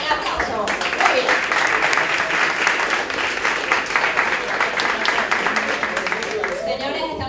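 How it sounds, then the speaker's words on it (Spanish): A conference audience at a Dash event in Caracas breaks into sustained applause, dense clapping and some cheering filling the room, loud and close, with voices mixed in underneath. "Bien, aplauso."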